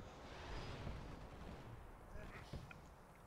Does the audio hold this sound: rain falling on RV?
no